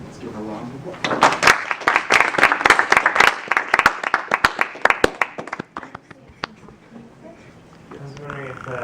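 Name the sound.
assembly applauding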